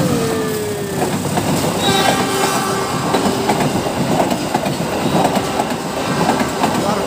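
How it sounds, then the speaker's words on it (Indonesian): A green passenger train rumbles past steadily with rhythmic wheel clatter and a faint squeal, loud and close throughout, with a brief voice underneath. "Tuh kereta guys. Wow, kereta hijau."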